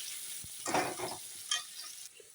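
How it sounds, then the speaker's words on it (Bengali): Potatoes fry gently in oil with turmeric in a pan, giving a soft, steady sizzle broken by brief stirring scrapes and a couple of louder bursts, with no talking. "আস্তে আস্তে করে ভেজে নিই"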